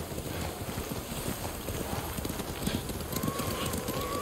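A horse gallops in Ghost of Tsushima, its rapid, dense hoofbeats driving steadily under wind and game ambience, with speech mixed in.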